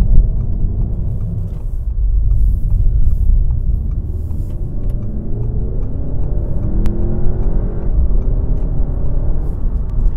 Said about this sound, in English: This thing picks up speed quite remarkably.